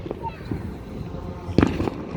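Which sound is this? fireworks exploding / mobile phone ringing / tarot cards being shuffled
fireworks exploding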